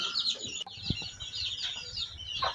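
Free-range backyard hens cluck softly in short bursts close by, with birdsong chirping in the background and no talk.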